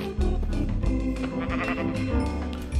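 A sheep in the video game Minecraft bleats loudly and repeatedly, its wavering cries following one another closely over a busy game soundscape with no one talking.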